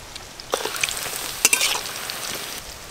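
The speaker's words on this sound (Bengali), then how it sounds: "চিকেন পকোড়া সব ভাজা হয়ে গেল" Chicken pakoras deep-fry in hot oil, giving a steady, close hiss of sizzling with a few sharper crackles and pops throughout.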